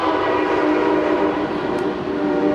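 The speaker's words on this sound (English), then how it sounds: "Here comes the train." A train passes close by with a loud, steady rumble and a tonal hum running throughout, heard alone without voices.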